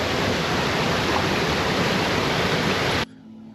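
Ba Ho Waterfall in Vietnam roars as a loud, steady broadband rush of falling water that cuts off abruptly near the end, leaving quiet background.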